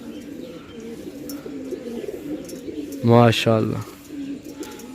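Pigeons at a bird sale in Shahdara, Lahore, give a short burst of close cooing, two quick throaty phrases, over low background murmur and a brief spoken word.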